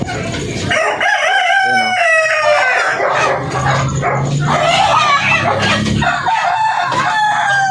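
Darag native chickens crowing and clucking up close, with loud repeated crows and cackles filling the whole stretch and a faint voice in the background.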